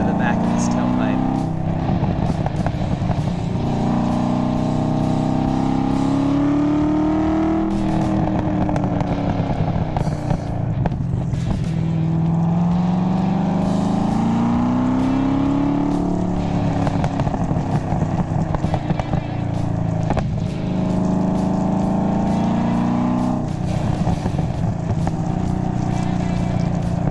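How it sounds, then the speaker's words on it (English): An LS7 V8-swapped Mazda RX7 FD3S with a grapefruit shooter exhaust tip gives a deep continuous rumble with rising and falling revs, heard up close under ongoing speech. "exhaust with a grapefruit shooter on the back, which it looks very Japanese, it screams American"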